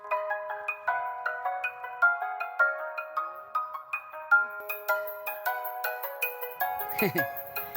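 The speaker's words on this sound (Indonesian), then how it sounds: "HP siapa yang bunyi?" A mobile phone plays a melodic ringtone, loud and close, a repeating chime-like tune of bright notes, with a brief voice cutting in near the end.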